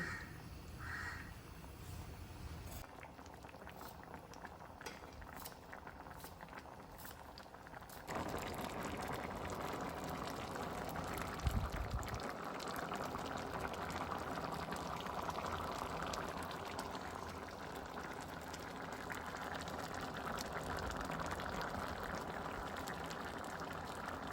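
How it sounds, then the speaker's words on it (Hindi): Steady bubbling and hissing of thick gravy simmering in a pan, growing louder partway through and continuing as a constant low roil. "इसे जो है ना उबाल आने देते हैं अभी।"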